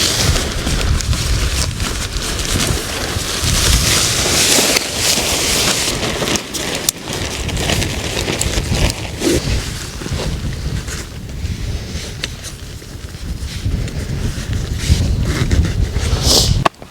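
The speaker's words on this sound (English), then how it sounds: "it's pretty windy" Strong wind on Dartmoor roars and buffets steadily throughout, a loud broadband rush with gusty surges and flapping of a tent, no voices present.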